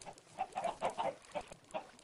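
Chickens cluck in Minecraft, a series of short bursts spaced across about two seconds, moderately quiet with no voices over them.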